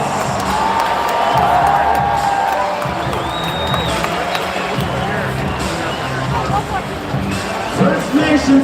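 A large crowd at the Calgary Stampede rodeo grounds cheers and whoops, with a broad roar of babble and scattered shouts and applause that stay fairly steady and loud, and voices are mixed in.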